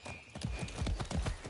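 Horse hooves clip-clopping at a gallop in the Far Cry 6 video game, a quick rhythmic run of close, punchy footfalls with no talk.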